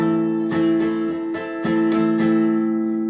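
Acoustic guitar strumming a simplified barre chord, one finger barring the first three strings, several times in a loose rhythm, each strum ringing out clearly and close.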